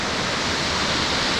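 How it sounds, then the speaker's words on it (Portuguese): Waterfalls pour down the side of a huge canyon, a steady, dense rushing roar that fills the air with no break and no other sounds over it. "tem essas quedas d'água aqui do lado"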